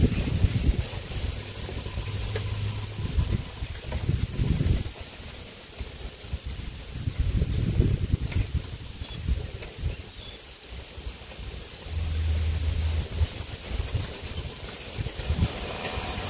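Outdoor wind buffets the microphone in broad low rumbling gusts that rise and fall across the stretch, with faint rustling and occasional distant bird sounds beneath.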